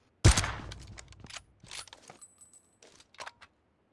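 Gunfire in PUBG Mobile during a squad fight in Georgopol: a sharp loud shot burst up front, then a few scattered fainter cracks and rattles over the next few seconds, with no talk.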